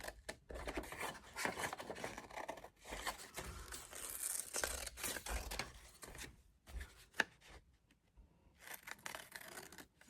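Scissors snip and slide through paper while junk journal tags are cut, a series of close crisp crunches and rustling paper handling in uneven bursts, separated by brief quiet gaps, with no talk.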